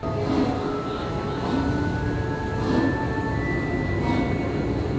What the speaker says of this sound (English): We've got to jump onto the Hogwarts Express train to get there.